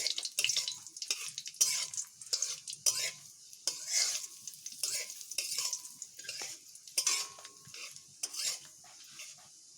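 Dried red chillies and nigella seeds fry in a hot pan under a light sizzle, with a spoon scraping and tapping the pan in a repeated, uneven rhythm, close and clear.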